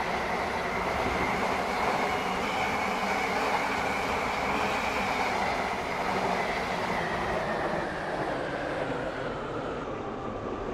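A steady, droning Class 345 train running along the rails in the Roblox game Stepford County Railway, with a constant hum and a faint tonal whine throughout, no voices heard.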